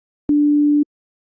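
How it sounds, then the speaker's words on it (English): Plain synthesized sine tone from the first operator of an FL Studio synthesizer patch, a steady pure note held for about half a second alone, with a soft click at onset and release. "Right now we just have a sine wave"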